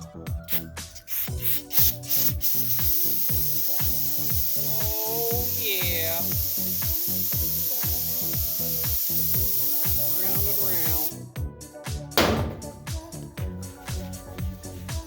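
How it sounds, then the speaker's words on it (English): A steady, close hiss of aerosol brake cleaner sprayed onto a two-piece brake rotor runs for about ten seconds amid rhythmic clicking and squeaks, then stops with some handling noise. "all you gotta do is spray that off with your favorite brand of brake cleaner"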